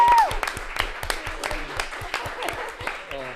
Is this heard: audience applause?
yes